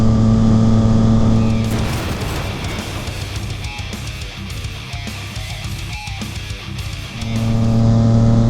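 A 2019 Yamaha MT-09 with an M4 carbon slip-on exhaust revs loudly with a deep exhaust note, steady idle at the start and end, rising and fluctuating in the middle.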